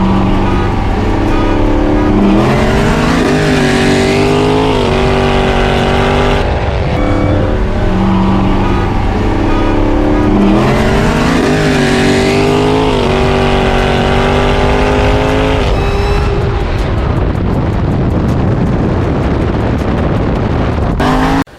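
A car in manual mode accelerates hard in third gear, its engine loud and close, with revs climbing in repeated surging sweeps and a gear change, dropping off near the end.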